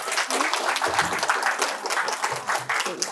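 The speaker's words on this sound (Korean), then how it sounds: "박수로 맞이해주세요" Audience applause welcoming a professor onto the stage at a children's science lecture on the deep sea in Daejeon, steady dense clapping from a crowd filling the whole stretch, with a few brief low murmurs underneath.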